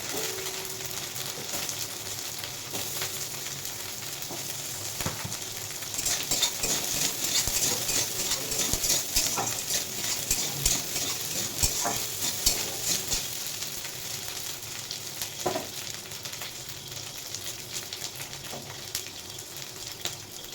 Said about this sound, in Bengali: রসুন পেঁয়াজের সঙ্গে আলুটা দেখে একটু ভালো করে ভেজে নেবো